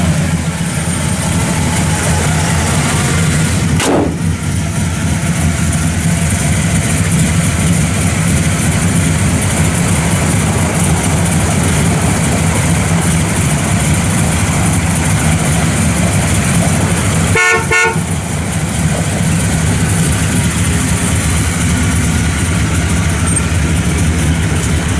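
A 1966 Pontiac GTO with Magnaflow full stainless exhaust idles steadily and fairly loud for the whole stretch, a deep even rumble with a brief sharp knock partway through and no talking.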